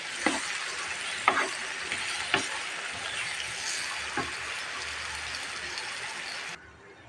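Amra (hog plum) pickle cooking in mustard oil in a pan, with a steady sizzle and a few sharp scraping stirs near the start, close by, before a sudden drop to quiet.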